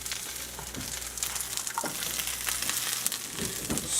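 Spinach, green pepper and onion fry in a pan with a steady, close hiss of sizzling, broken by a few soft scrapes as the vegetables are moved around.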